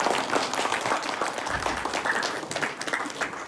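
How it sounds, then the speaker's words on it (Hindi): Audience at an ITC Rajputana event clapping loudly for the institution, a thick, continuous burst of applause from a sizeable crowd. "तो एक बार जोरदार अपने इस संस्था के लिए बजाएं ताली"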